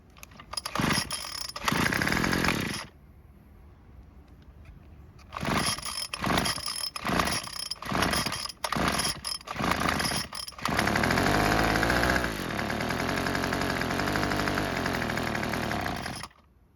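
A Craftsman string trimmer that would not start is pull-started several times in quick rough bursts, then catches and runs as a loud buzzing two-stroke engine whose pitch sags and wavers before it cuts out.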